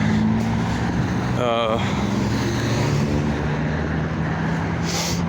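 Traffic rumbling along a big road while someone crosses on foot, a steady close roar of passing vehicles with someone talking over it.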